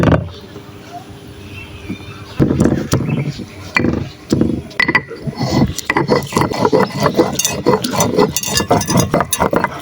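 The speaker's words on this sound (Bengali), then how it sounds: "এবার আমি পাটায় পটলগুলোকে বেটে নেব" Pointed gourds are crushed on a stone slab (pata) for a bhorta, with quiet handling at first, then rhythmic, close scraping and grinding strokes that repeat steadily.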